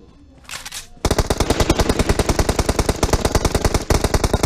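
Rapid automatic gunfire from PUBG Mobile, a long sustained burst of evenly spaced shots, loud and close, after a short whooshing sound at the start.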